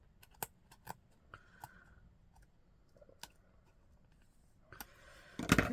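Fine scissors snip through layered card while a tepee Christmas card is being made: a scatter of faint, crisp clicks and snips spaced irregularly, ending in a louder rustling cut, with no talking.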